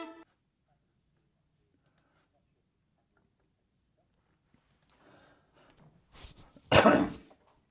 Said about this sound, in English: Sorry, just having a bit of a cough there.